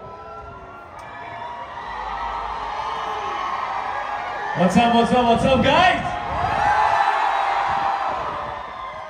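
A large outdoor crowd at Global Village, Dubai, cheers and whoops throughout a stage appearance by two actors, a broad roar that swells in the middle while an amplified voice speaks over it.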